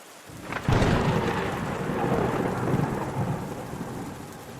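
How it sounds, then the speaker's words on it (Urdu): A stormy-night sound effect for a King Lear audiobook: a loud thunder crack breaks in, then rumbles on over steady heavy rain and gusting wind, with no voices. "اندھیری رات میں طوفانی ہواؤں کے ساتھ بادشاہ لیئر کھلے میدانوں میں چلا جا رہا تھا"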